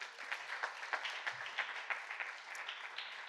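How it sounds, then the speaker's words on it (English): Clapping from a conference audience in Brussels after a presentation, a modest round of applause with individual claps audible, steady and moderately quiet over the short stretch. "A round of applause, please."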